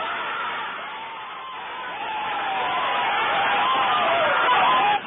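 A crowd of family, relatives and friends yelling and cheering while watching Manny Pacquiao's fight against Marquez, a sustained roar of mixed voices that swells and grows louder toward the end, heard through band-limited, muffled audio.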